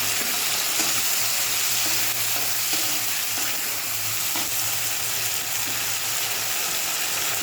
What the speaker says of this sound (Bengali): আলুটা লাল লাল করে ভাজা হয়ে গেছে। এবার এর মধ্যে আদা রসুনের পেস্ট,